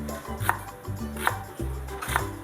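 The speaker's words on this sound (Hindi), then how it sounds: "इस रुख से जब प्याज आप काटते हो तो ये गलने में बहुत आसान होती है।" A knife chops through an onion on a board while cooking a beef dish, three sharp, evenly spaced chops close by over a low steady hum.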